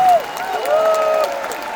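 Audience clapping at a Tim Storey church gathering in Edmonton, a steady dense patter of many hands filling the room while a singing or sustained voice rises above it.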